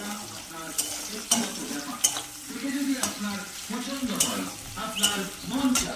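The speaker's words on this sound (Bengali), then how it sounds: "তারপরে দিয়ে দেবো হচ্ছে তেজপাতা পেঁয়াজটা একটু ভাজা ভাজা হবে" Onion and bay leaf fry in a pan, with a steady close sizzle and rhythmic scraping stir strokes recurring about every second.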